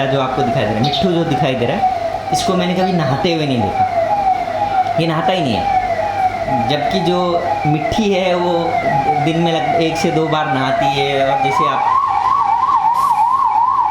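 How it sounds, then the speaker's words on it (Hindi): An ambulance siren wails on a street in Maharashtra, its repeated rising and falling tone running loud and close for the whole stretch, under someone speaking steadily in Hindi, then switching to a faster warble near the end. "अगल बगल से आपको इस तरह से एम्बुलेंस की आवाज़ सुनाई दे रही है"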